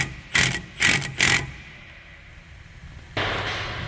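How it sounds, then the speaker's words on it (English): An impact wrench rattles in three quick short bursts on the caliper bracket bolt of a 2019-or-newer Chevy Blazer, Traverse, GMC Acadia or Buick Enclave rear brake, then a pause, then a louder sustained run, close up. "Let's remove the caliper bracket bolt."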